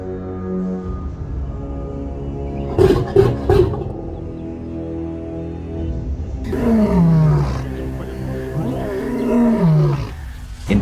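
A lion roaring at night near farmland, deep groaning roars building into a long, loud, drawn-out series of calls up close, with a few grunts and huffs before them.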